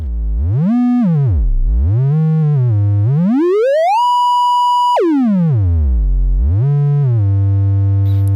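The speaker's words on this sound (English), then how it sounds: "the triangle wave is similar. It's also very smooth and very clean sounding" A smooth, clean synthesizer triangle-wave tone glides up and down in pitch, swooping low and high, holding one steady high note briefly, with soft upper harmonics.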